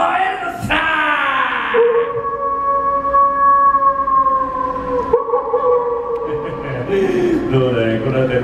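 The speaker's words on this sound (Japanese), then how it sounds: "そして最後に狼男、こいつは一晩中月に向かって吠えるのさ。" A werewolf howls at the moon as a theme park show effect at Universal Studios Japan, a long, loud, wavering howl that slides in pitch and holds for several seconds, up close.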